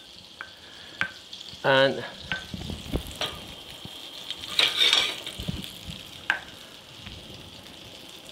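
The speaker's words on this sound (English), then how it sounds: "Sauté it, the liver should always be slightly pink inside." Small turkey liver sautéing in butter in a pan, a soft intermittent sizzle with brief louder bursts of frying and light stirring, plus a single spoken word.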